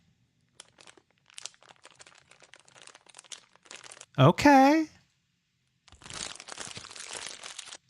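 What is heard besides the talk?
crunching plastic sound effect for a game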